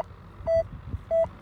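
A Rutus Argo NE metal detector signals a target with two short, even, fairly high beeps about half a second apart over a low rustling background.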